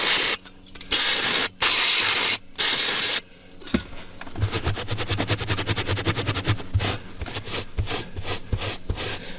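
Brake cleaner sprayed onto the carpet of a Z28 project car, three loud hissing bursts up front, then a rapid rhythmic scrubbing across the fibers that carries on to the end.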